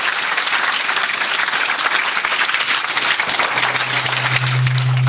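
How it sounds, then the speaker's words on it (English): A museum audience claps after an evening talk about B-29 bombers, sustained close applause from the whole room that stays loud and even, with a low hum rising near the end. "let's give him a great round of applause"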